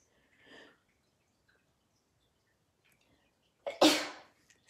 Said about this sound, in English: I was trying not to sneeze, but I just had to.